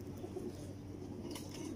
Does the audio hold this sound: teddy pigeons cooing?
yes